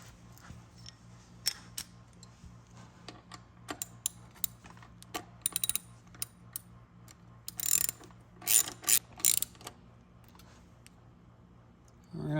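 A ratchet clicks in short bursts while a screw is driven into a bracket for a PW50 lowering kit, with scattered clacks early and louder, denser ratcheting runs near the end.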